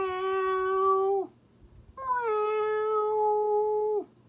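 A person imitates a cat with two long, drawn-out meows, clear and close, a short pause between them, while reading a children's story aloud.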